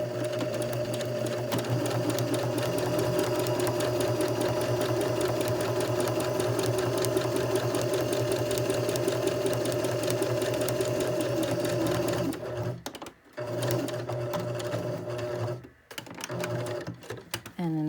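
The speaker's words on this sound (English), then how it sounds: "I start with the back and I just do a seam across this edge" A sewing machine runs steadily for about twelve seconds, stitching a seam across the edge of a fabric face mask, then stops and starts in short bursts. A voice talks over the whirring motor.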